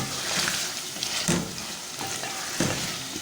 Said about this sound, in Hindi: आलू को हम 2 से 3 मिनट मसाले के साथ भूनेंगे।